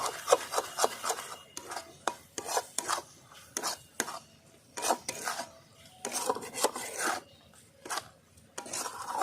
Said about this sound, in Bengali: নামানোর আগে আমি দিয়ে দিচ্ছি ঘি ঘি দিয়ে ভালো করে মিলিয়ে নেবো